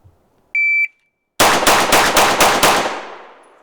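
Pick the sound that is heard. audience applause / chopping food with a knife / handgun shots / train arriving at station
handgun shots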